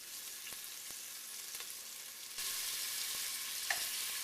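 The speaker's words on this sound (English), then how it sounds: "So you want these to sear, you don't want them to boil." Meat searing in a hot pan with spices for Moroccan chili, a steady broadband sizzle that jumps louder partway through, with a few faint clicks and a brief scrape near the end; no talking.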